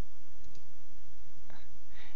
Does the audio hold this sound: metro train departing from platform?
no